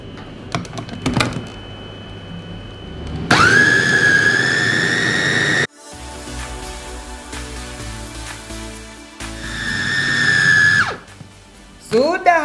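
A large electric grinder milling shrimp for pempek runs in two steady, loud bursts with a high motor whine, separated by a quieter stretch, while a person talks around it.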